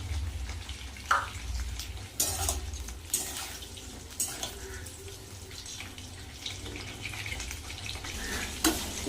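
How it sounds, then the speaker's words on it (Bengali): Pointed gourd (potol) frying in a pan, giving a steady close sizzle with scattered sharp pops and crackles throughout, no voices. "পটলটা ভাজা বসিয়ে"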